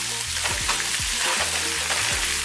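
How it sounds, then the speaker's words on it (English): Sausage sizzles and crackles steadily in hot olive oil in a pot, with repeated scraping stir strokes through the frying, close and fairly loud. "And basically you're just gonna add all the sausage."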